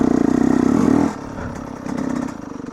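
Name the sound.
Yamaha YZ125 two-stroke dirt bike engine shifting up a gear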